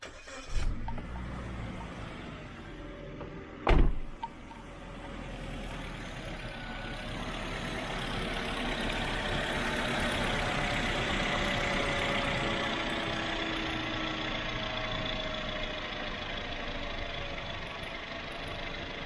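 A 22-year-old Japanese-built Suzuki Jimny with the bonnet open cranks with a sharp burst, catches and settles into a steady close idle that holds to the end.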